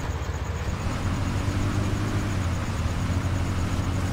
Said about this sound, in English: I'm just gonna back this truck up